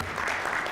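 An audience at a restorative justice summit applauds, a dense, steady wash of clapping from many hands over a brief stretch.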